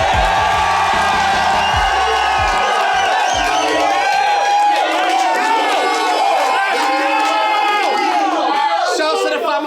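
A large audience at a live rap battle event erupts in loud cheering, whooping and shouting that fills the space, a dense close roar that carries throughout.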